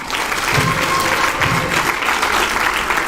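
Audience applause for the student coordinators at the valedictory of a 24-hour college tech hackathon, steady dense clapping from a crowd filling the full three seconds at an even level.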